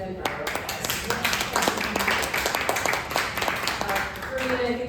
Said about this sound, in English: let's give Corinna a big round of applause